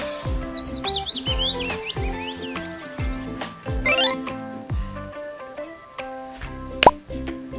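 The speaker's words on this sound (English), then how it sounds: "The bird tweets." A cartoon bird tweets in a children's reading lesson, with high chirping trills rising and falling over repeated soft plopping beats and musical tones, ending in a bright sharp chirp.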